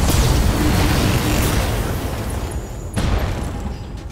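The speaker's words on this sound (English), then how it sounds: "Could I also include the bunker buster bomb here?" A bunker buster bomb strikes in the BattleTech mech combat game, bursting into a broad, rumbling explosion. A second sharp blast hits near the three-second mark and then rolls off into a fading roar, with no voices.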